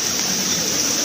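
Water flowing steadily in a creek, an even, continuous broadband rush that stays constant throughout the brief moment with no talk over it.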